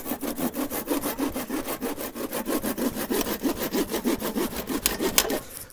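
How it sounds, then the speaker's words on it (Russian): A hand saw cuts through a wooden slat in steady back-and-forth strokes, close and loud, a rasping rhythm of roughly five strokes per second that continues for several seconds before stopping. "вторую рейку берем и отпиливаем"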